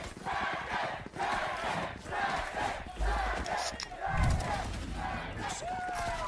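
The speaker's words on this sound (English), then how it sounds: "Just listen to that crowd" A loud esports arena crowd roars and cheers continuously throughout a Valorant VCT Americas match between Sentinels and Cloud9, with swelling bursts of shouting over the steady din.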